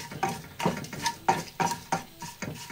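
A spoon stirs cumin into a cooking pot in a rhythmic series of scraping clinks, about eight strokes in under three seconds, close and clear with no talk.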